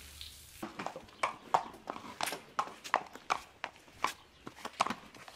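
A light, full-blooded trotting mare walks on hard ground, her hooves giving a steady, fairly quiet clip-clop of evenly spaced knocks at close range.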